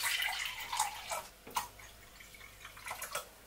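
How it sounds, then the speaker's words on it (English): Warm water poured steadily into a bowl for homemade bagel dough, a soft splashing and trickling stream with a few brief drips, close and fairly quiet, no talking. "starting off with a cup and a half of warm water"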